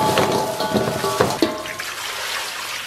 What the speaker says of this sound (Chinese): 先把这个牛肉给它清洗一下啊